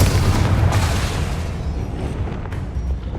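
The Bombarda spell in Hogwarts Legacy goes off as a heavy, sustained explosive roar with deep rumbling weight, slowly fading over a few seconds and heard alone without voices.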